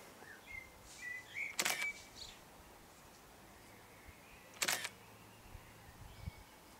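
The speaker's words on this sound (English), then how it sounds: "pushing two shutters simultaneously" A Fuji X100 and a second camera fire their shutters, giving two crisp, sharp clicks about three seconds apart against a quiet room background.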